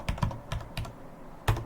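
Keys clatter on a computer keyboard as a short terminal command is typed: a handful of quiet, close clicks in an uneven rhythm, with a brief pause before a final sharper keystroke.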